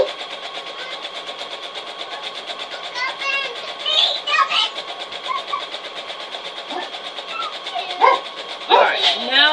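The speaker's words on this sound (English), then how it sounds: "He barks at squirrels and everything." A house dog barks in short bursts, some sharp and close and others fainter, over a steady background hum while a person talks during a home sewing session.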